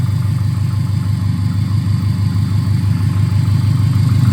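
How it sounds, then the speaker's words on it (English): A Subaru STI with a freshly built engine idles just after its first start with all injectors connected, a steady, loud, even rumble with a fast pulsing exhaust beat and no talking. "Look at that, it runs a lot smoother when you plug all the injectors in."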